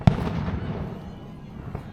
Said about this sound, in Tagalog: May pa-fireworks!